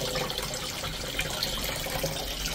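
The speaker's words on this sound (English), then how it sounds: "we've had some water trapped in the system, so we're just doing a final bit coming out" Trapped water draining from a Heatrae Sadia Amptec C600 electric boiler system into a mop bucket, a continuous steady splashing trickle close by with no talking.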